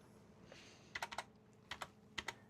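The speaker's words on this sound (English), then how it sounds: "Right, keyboard's still responsive" Keys clatter on a Lenovo laptop keyboard in three quick bursts of three or four crisp taps each, faint and close, with a quiet background and no voices.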